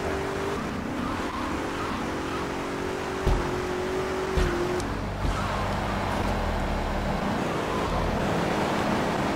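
A car driven in the video game GTA III, its engine droning steadily with shifting pitch as it accelerates, plus a few sharp knocks or impacts along the way, loud and continuous with no talk.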